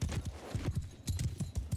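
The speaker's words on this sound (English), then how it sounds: "Horse archers up over here as well." Horse archers' hooves clip-clop in Mount & Blade II: Bannerlord, a quick, steady rhythm of many close hoofbeats drumming across the ground with no voices over them.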